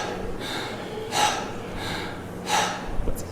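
Two sharp inhaled breaths drawn up into the chest at a steady pace, close and fairly loud, with softer breathing between and no talk.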